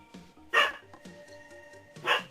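A dog barks twice in a short clip, each bark loud and close with a quiet gap between, and no one talking over it.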